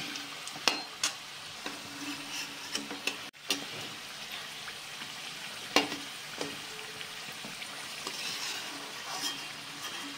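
Chandrapuli sweets frying in oil one at a time, a low steady sizzle with scattered clicks and utensil taps, plus one sharp knock midway, nearby and fairly quiet, no talking.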